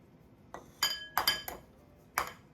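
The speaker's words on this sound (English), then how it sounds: "I'm going to whisk my 2 eggs together" A few sharp, irregular clinks of a utensil against a small bowl as two eggs are whisked, bright and close, with short gaps between strikes and no talking.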